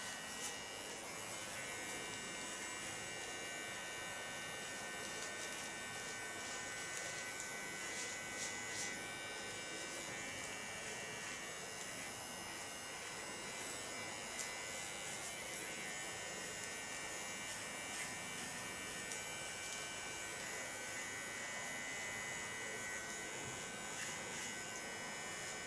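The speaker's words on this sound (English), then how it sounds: "with my small Keone clipper, I start with making small lines" A small Keone hair clipper runs steadily while shaving lines into the nape of the neck, giving a continuous close electric buzz that holds without break and with no talking.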